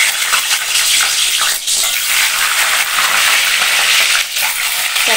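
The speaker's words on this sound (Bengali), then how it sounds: "ডিমটা না আমি ভেজে নেব" Eggs frying loudly in hot oil in a kadai, with ginger, garlic and tomato paste, a dense continuous sizzle and crackle close up, briefly dipping twice as the food is stirred.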